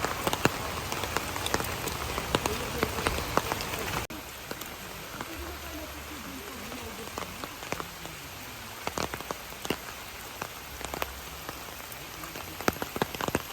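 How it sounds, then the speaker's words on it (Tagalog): Heavy rain pours steadily, drops drumming hard on a nearby surface, with a voice speaking faintly beneath the downpour. "Medyo malakas yung ulan pero sige lang."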